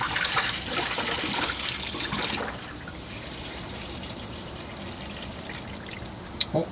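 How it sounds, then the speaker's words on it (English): Liquid pours steadily into a radiator until it is full, a continuous gushing stream that thins after a couple of seconds into a quieter trickle, close by. "So now I'll pour it into the radiator."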